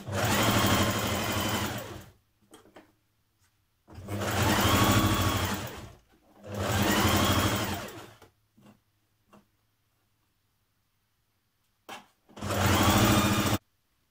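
A domestic sewing machine runs in four steady bursts of a couple of seconds each while stitching a 1.5 cm seam on a garment top, with brief pauses and small clicks between runs.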